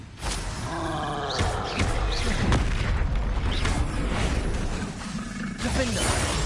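Bombarda and Confringo spells blast in Hogwarts Legacy, with loud booming magical impacts and roaring whooshes in quick succession, mixed with shouted spell incantations.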